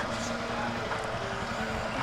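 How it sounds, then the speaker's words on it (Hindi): A motorcycle engine rumbles steadily while riding with the helmet visor open on a road trip from India to Nepal, heard as a close, continuous low drone mixed with wind rush. "मैंने वाइज़र नहीं बंद किया था तो शायद इंजन की आवाज़ डिस्टर्ब कर रही होगी"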